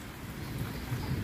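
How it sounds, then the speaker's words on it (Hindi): Early morning rain falls steadily, a soft, dense hiss with a low rumble underneath, continuous and fairly faint, with no voices. "माशाल्लाह सुबह सवेरे बारिश हो रही है"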